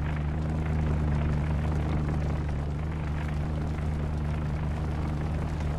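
Aircraft flying overhead in the submarine video game UBOAT, a steady droning engine hum with a low tonal throb, continuous and fairly loud over a broad rushing wash, no talking.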